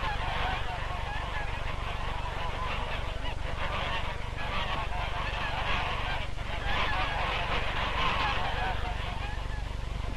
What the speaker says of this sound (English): Geese, hundreds of them.